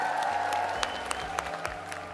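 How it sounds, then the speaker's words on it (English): Steady applause from an audience, a dense wash of clapping with a few sharper claps standing out, continuing evenly throughout. "A massive clap for all of the finalists and the winners tonight."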